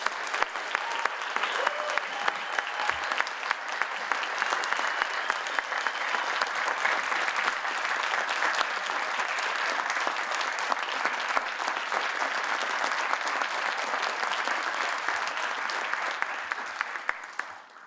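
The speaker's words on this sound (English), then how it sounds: "Let's give a warm round of applause to celebrate the distinguished career of Dr." Sustained applause from an audience at an academic talk celebrating a professor's career, with many hands clapping steadily for nearly eighteen seconds before tapering off at the end.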